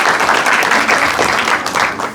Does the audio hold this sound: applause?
yes